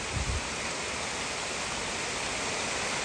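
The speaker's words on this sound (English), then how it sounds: "It's just raining right now." Steady, dense rain hiss fills the whole clip, broad and even, with a brief low thump near the start.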